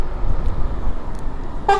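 A Porsche sounds a short car horn toot on a road, a brief loud blast near the end over the rush of wind and traffic heard from a riding electric scooter.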